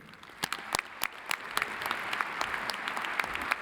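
A lecture-hall audience applauds to welcome Secretary Chuck Hagel: a dense, steady round of clapping with sharper individual claps standing out, sustained for the whole stretch without voices.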